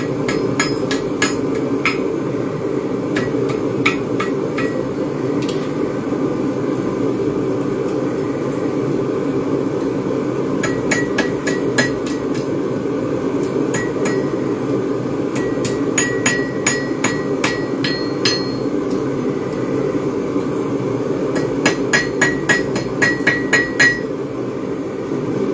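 Blacksmith's hammer striking a hot dog fork on an anvil, with bursts of sharp ringing metallic blows in fast clusters over a steady background drone, close and loud.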